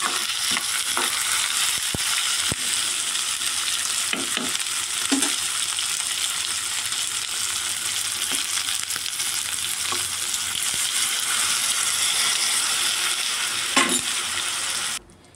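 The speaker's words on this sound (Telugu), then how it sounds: "చింతపండు పులుసు, ఉప్పు, కారం, వాటర్ అన్నీ మరుగుతున్నాయి" Tamarind broth with salt, chili and water cooking in a pan, a steady loud sizzling bubble throughout with a few faint clinks, ending abruptly.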